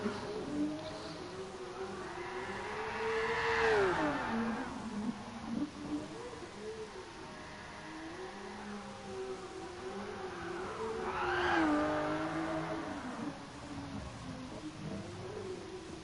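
A car drifting around the Nordschleife in Gran Turismo Sport, its engine note steadily droning and swooping up and down in pitch as revs rise and fall, with a brief higher scream around the slides.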